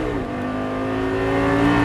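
Close and loud, a Lamborghini Gallardo LP 560 revs up under acceleration on track, the engine pitch dipping briefly with a shift and then climbing steadily, with no speech over it.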